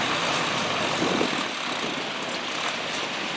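Farm tractor engine running steadily at around 8 mph during a pulling test drive at a fall harvest festival, a broad, continuous mid-distance drone with no talk over it.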